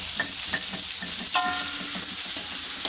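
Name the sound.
bay leaves and lemongrass sautéing in a pan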